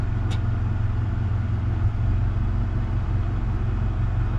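A third-generation Toyota 4Runner engine idles in park with a misfire, a steady low rumble with uneven pulsing throughout, close and fairly loud, with no talking.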